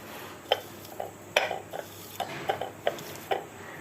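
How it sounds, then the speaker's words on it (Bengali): Green chilies mashed with salt by hand in a bowl, producing a steady series of short, soft squelching knocks about every half second, close and alone. "ওই যে আমি এখন ডলে নিচ্ছি কাঁচা মরিচটা, লবণ দিয়ে চটকাই নিচ্ছি ভালো মতো।"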